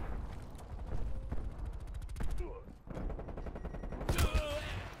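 Rapid bursts of gunfire from burst-fire weapons in the multiplayer shooter Call of Duty: Cold War, on the Hijacked map, repeating in quick clustered volleys against steady background game noise, with a louder flurry near the end.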